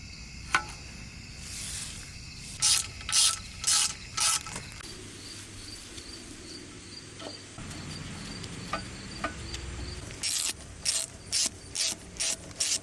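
A socket ratchet tightens bolts on the dual throttle body actuator brace of a Nissan 300ZX engine, in two clusters of quick, close rhythmic clicking bursts separated by quieter handling noises.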